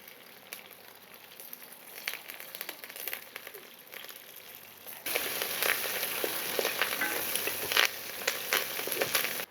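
Mustard seeds, split dals, ginger, green chillies and curry leaves frying in hot oil for tamarind-leaf pulihora, a steady close crackling sizzle that grows louder and denser partway through, with no talk.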